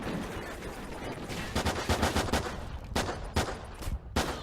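Sharp, close pistol shots from a P226 in a Call of Duty: Ghosts search-and-destroy match crack out in an irregular series of distinct bursts over a steady background of game ambience.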